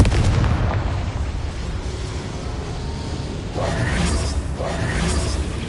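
Confringo fire spell explosions in the Hogwarts Legacy video game, a rumbling, booming roar that stays loud throughout with sharper bursts near the end, with no talking.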